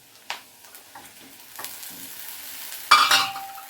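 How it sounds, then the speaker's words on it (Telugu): Okra pieces going into a pan of fried onions: faint scattered clicks and scrapes, then a sudden louder burst of sizzling near the end that tails off with a thin ringing tone. "ఉల్లిపాయలు బాగా ఏగిపోయాయి ఇప్పుడు ఏం చేయాలంటే బెండకాయ ముక్కలు వేసుకోవాలి"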